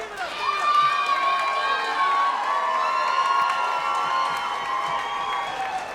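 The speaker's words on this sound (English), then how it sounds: "Julio, how everyone's cheering for Phil right now." A crowd cheering and whooping at an axe throwing championship, sustained bright shouts filling the space at close range, with some voices mixed in.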